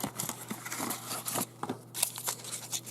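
Vacuum-sealed packaging for a Xiaomi gadget is torn and crinkled open up close, giving quiet irregular plastic rustles and snips over a low steady hum.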